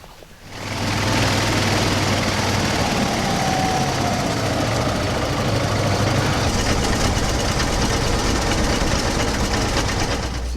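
An inboard boat motor idling on a swamp boat, starting up to a loud, steady, close rumble with a constant low drone and mechanical clatter that holds without change.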